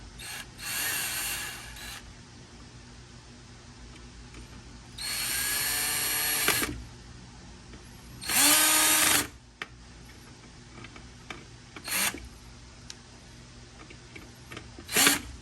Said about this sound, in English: Now we get the drill on it.